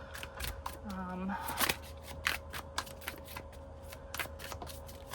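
Tarot cards are shuffled by hand in a quick series of crisp riffling flicks over a faint steady hum, with a brief voice early on.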